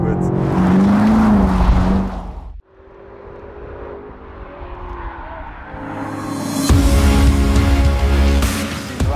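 BMW X5 M SUV lapping the Nürburgring Nordschleife in its track-tuned sports mode, a loud, steady engine drone with a brief dip before the roar builds again near the car, with a voice speaking over part of it.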